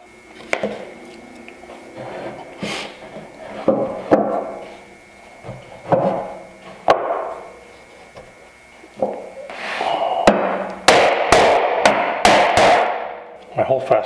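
Several sharp hammer strikes ring out at irregular intervals, with a quick cluster of loud blows near the end, amid workshop clatter and breathing.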